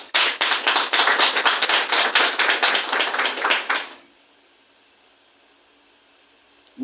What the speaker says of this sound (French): qu'on doit applaudir